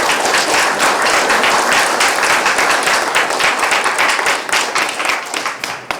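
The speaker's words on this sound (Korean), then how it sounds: "우리 하 전 회장님 큰 박수 한번 쳐주세요" A large audience applauding at an inauguration ceremony for a local advisory council, dense sustained clapping that fills the room and tapers slightly toward the end.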